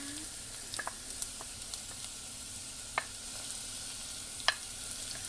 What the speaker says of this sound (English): now I'm going to put my chopped onions into the mixture. I'm going to use my wooden spoon to do this.